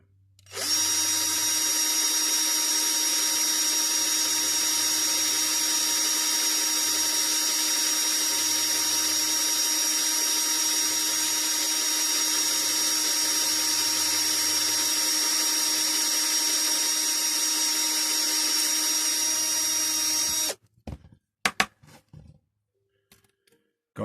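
A power drill whines steadily for about twenty seconds, drilling out the riveted post on a Dinky Toys Vauxhall Cresta No. 164 model car, then stops, leaving a few faint clicks and handling noises.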